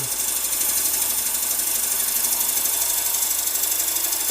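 A wood lathe spins at about 700 rpm while a tool turns a wooden Easter egg, making a continuous, even whir with a bright, hissing cutting noise that never lets up.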